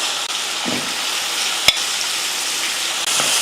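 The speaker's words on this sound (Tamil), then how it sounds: "மசால் கூட மட்டன் போட்டு நல்லா ஒரு ரெண்டு நிமிஷத்துக்கு இது போல் கலந்து விட்டுட்டு" Mutton with masala sizzles steadily in a pan while a spoon stirs it, with occasional scrapes and one sharp knock against the pan.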